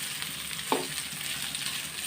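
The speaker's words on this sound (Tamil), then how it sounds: "வெங்காயம் வதங்கிட்டு இருக்கு" Chopped onions sautéing in a pan with oil, a steady low frying sizzle with one short scrape of a spatula, close and even.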